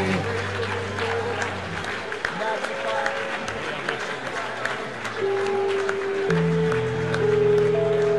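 A church congregation at an evening conference service claps along as sustained keyboard or organ chords play, the clapping steady and mid-distance beneath the music.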